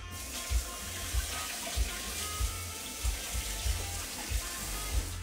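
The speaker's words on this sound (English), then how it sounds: "Let me wash this up." Tap water runs steadily into a kitchen sink during washing up, a loud continuous splashing rush with soft regular low thumps about every half second to second.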